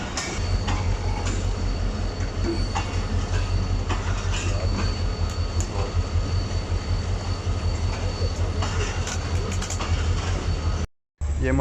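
Shalimar Express train running from Karachi toward Lahore, with a loud, steady rumble of wheels and carriage noise throughout, faint squeals and rattles over the top, and a brief drop near the end.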